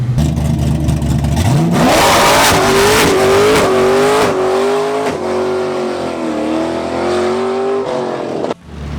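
A Pontiac GTO with an LS engine roars and rises sharply in pitch as it accelerates hard on a road test launch, loud and close, with a brief screech of tires as it launches.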